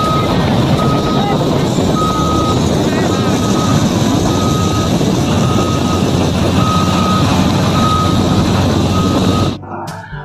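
Toy mining truck sounding a steady series of evenly spaced electronic reversing beeps over a loud, continuous motor-like drone, both cutting off abruptly near the end.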